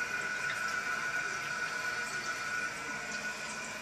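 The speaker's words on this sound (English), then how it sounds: "Let the tank fill up here." Water rushes steadily into a toilet tank being refilled after a reset, a continuous close hiss and gurgle with no talking over it.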